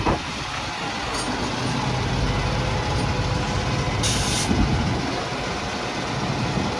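A heavy monster truck rolls off a trailer, with a low steady engine and chassis rumble throughout and a sharp hiss of air release midway.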